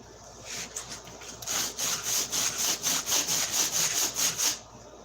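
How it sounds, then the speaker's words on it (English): Hand sanding on wood, a steady run of about a dozen brisk back-and-forth rasping strokes, close and fairly loud, starting after a brief pause and stopping abruptly, with no voices. "I got boogers on there I gotta sand off."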